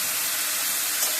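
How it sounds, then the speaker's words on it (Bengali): Lentils (dal) tipped into hot oil in a pan where coconut has just been fried, giving a steady, loud, bright sizzling hiss for a brief moment, with no talking. "এবার আমি ডালটা ছেড়ে দেব।"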